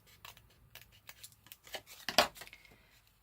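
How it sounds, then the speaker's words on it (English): Scissors snipping paper to trim a handmade journal cover pocket, a handful of quiet, close cuts and rustles with one crisper snip near the end. "I might just trim that down ever so slightly because I don't think I cut straight."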